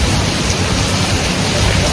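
Heavy rain pouring down in a Punjab village, a dense, steady hiss that fills the whole scene without letup.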